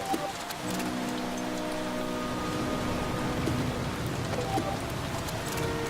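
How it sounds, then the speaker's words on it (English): Steady rain falling in the video game The Flame in the Flood, a dense hiss of drops spattering on surfaces that holds constant throughout, with faint tonal game sounds underneath and no talking. "Since it's basically perpetually raining, I'm going to take advantage of this."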